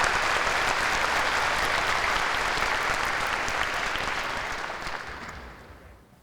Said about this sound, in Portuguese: Grande salva de palmas no Macau-Dome